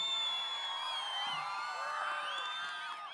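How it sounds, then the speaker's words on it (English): An audience at a school annual day celebration whoops and cheers in a steady, fairly loud mass of high-pitched shouts and hoots lasting a few seconds, with no talk over it. "Can we give them a loud round of applause? Yeah, you can hoot, you can whistle"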